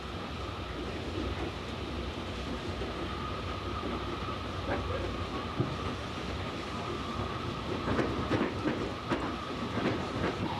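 A Metrolink commuter train rolls along railroad tracks, a continuous rumbling ride with a steady mid-range hum and scattered rhythmic clicks and clacks from the rails growing more frequent toward the end.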